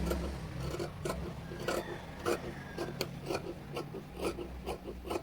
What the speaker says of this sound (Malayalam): ഈ ഒരു നെക്കിൻ്റെ പോർഷന് കട്ട് ചെയ്തെടുക്കുക